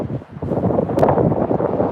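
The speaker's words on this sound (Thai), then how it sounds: "แต่ลมแรงจ้า ลมแรงที่ไอซ์แลนด์" Strong wind in Iceland buffets the microphone with a loud, continuous roar and rumble, steady for the whole stretch with no voices.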